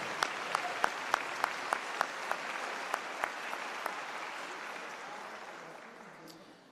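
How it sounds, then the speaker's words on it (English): Applause from a university convocation crowd, steady clapping with a few sharp claps standing out early, gradually thinning and fading toward the end. "One more big round of applause."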